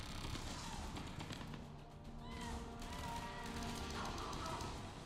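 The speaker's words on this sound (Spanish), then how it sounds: "¿Pero dónde vienen los tiros, tío?" Gunfire crackles in the shooter Mass Effect 3, a dense run of shots and bursts going on without pause over a busy, noisy battle backdrop.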